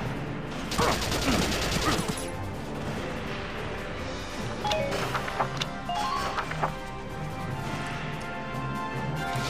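Gunfire in the Valkyria Chronicles video game: a cluster of loud impacts near the start, then scattered sharp shots and crashes over a continuous background din, with light talk faintly present.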